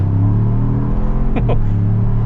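A 2024 Ford Bronco Heritage two-door with a 2.7-litre engine pulls hard and loud from inside the cabin, its low engine drone rising steadily, with a brief high exclamation cutting through partway.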